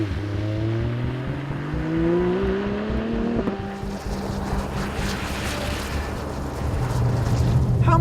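A Volvo S60 Polestar with a transversely mounted V6 and manual gearbox accelerates hard. Its engine climbs through rising revs, then a sharp shift gives way to a loud, roaring burst with a rumbling blare near the end.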